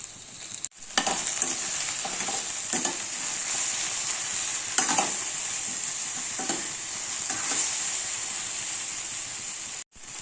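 Crushed garlic sizzling steadily in a pan where cut okra is frying, with salt added, a continuous bright hiss broken by a few scraping stirs, close and fairly loud, with no voices.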